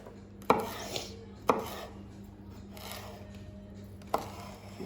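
A knife chops peppers on a cutting board, four sharp separate knocks spaced about a second apart over a quiet kitchen background.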